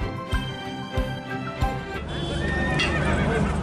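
A tall mare, about 70 inches high, at a livestock fair in Ganganagar, India, gives a few hoof knocks and then a long, loud whinny that swells and carries, close by with no talking.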